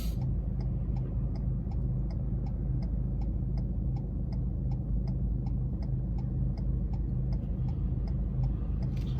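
A car's turn signal indicator ticks in a steady, evenly spaced rhythm during a driving test in Hull, crisp clicks sitting over a continuous low engine and road hum inside the cabin.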